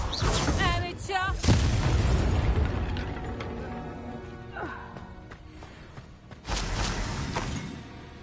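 A Confringo blasting spell goes off in a Hogwarts video game: loud booming bursts with crackling debris, a second blast near the end, and a voice calling out over the action.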